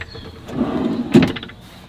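A soft-close kitchen drawer in a VW Grand California camper van glides shut with a smooth sliding rush, then a gentle cushioned thump, close and clear.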